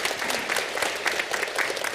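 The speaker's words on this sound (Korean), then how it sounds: "박수로 주님께 영광 돌리겠습니다." A church congregation claps steadily through a Sunday worship service, a dense, even round of applause from a crowd in the sanctuary with no speech over it.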